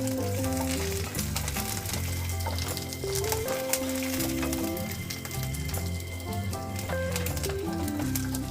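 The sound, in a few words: garlic and curry leaves frying in oil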